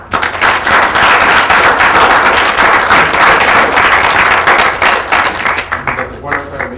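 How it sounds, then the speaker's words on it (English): A large audience breaks into loud, sustained applause honoring military service members, dense clapping filling the room before tapering off near the end. "we ought to give him a round of applause for serving our country"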